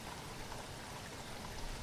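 Steady heavy rain in a cartoon scene, a dense even hiss of falling water with no breaks, moderately loud and alone.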